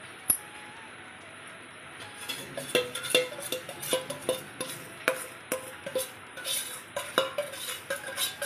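Mysore pak mixture being stirred into sugar syrup in a pan, heard as a steady run of spoon clinks and scrapes against the metal. The strokes are close and fairly rhythmic, growing busier after the first couple of seconds, with no talking.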